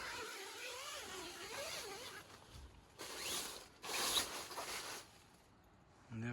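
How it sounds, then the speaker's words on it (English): A zipper on a tent's stove jack is drawn open in a few close, short ratcheting pulls, fairly faint, with soft fabric handling between them. "Just unzip this."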